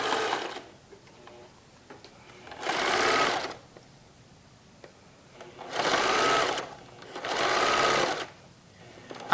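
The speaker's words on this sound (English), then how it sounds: "I'm going to sew this seam at a 1/2 inch seam allowance." A sewing machine stitches a seam on a recycled khaki tote bag with a 1/2 inch seam allowance. It runs in three steady, close bursts of about one to two seconds each, with quiet pauses between them.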